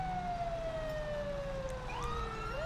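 A police car siren wails in the Grand Theft Auto V LSPDFR game, a steady falling tone that slides and shifts pitch near the end, loud and continuous over a low engine rumble.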